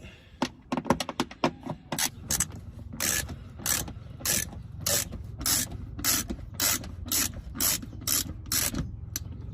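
A ratchet with an 8mm socket loosens radiator bolts on a Mercedes-Benz E320 W210, giving rapid clicking bursts at first and then slower, regular ratcheting strokes, close up, with no talking.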